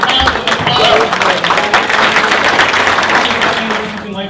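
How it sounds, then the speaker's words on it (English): Applause from an audience at a real estate investors' expo in Palm Beach, a dense, steady wash of clapping that fills the room, then eases slightly near the end. "Give my friend Mr. Jason Rojo a round of applause."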